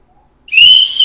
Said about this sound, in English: I'm gonna give it a good whistle